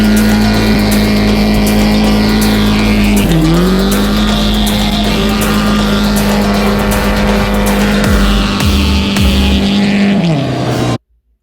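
Drift cars run on a race track, a loud, steady engine drone holding pitch with a brief dip, under tire squeal and revving, continuous and close for about ten seconds before cutting to silence.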